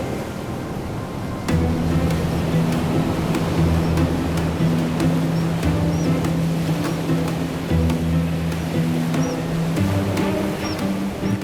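Ocean waves and surf break along the Shetland coast, a loud continuous wash with a steady low engine-like drone running beneath it and no voices.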